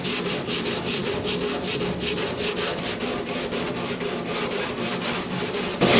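Hand scraping stripped paint out of the stamped beads of a 1982 Jeep CJ7 steel tub, a close rhythmic run of quick rasping strokes repeating about four times a second, with no voices.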